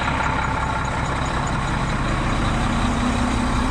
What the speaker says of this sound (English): So the truck's been running for